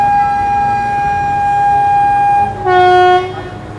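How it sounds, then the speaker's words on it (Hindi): A metre gauge train on its final Omkareshwar to Dr Ambedkar Nagar run sounds a long, loud, steady horn blast, then a short break and a second shifting-pitch horn burst as it pulls away, with no voices. "लेकिन इसी के साथ ये ट्रेन अपने सफ़र में आगे की ओर बढ़ जाती है"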